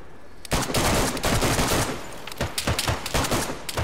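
Dense bursts of rapid gunfire in a video game crackle loudly and close, a continuous fusillade followed by scattered sharper shots toward the end.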